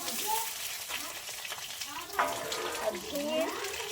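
Ridge gourd goes into hot oil with black cumin and fries, giving a close sizzle and crackle with stirring clatter while someone talks over it.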